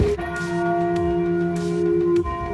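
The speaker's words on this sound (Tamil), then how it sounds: "தேவன் கோயில் மணியோசை." A single church bell at Martyrs' Shrine in Midland, Ontario strikes and rings out loudly, its tone sustaining and slowly fading, with a faint click of another strike near the end.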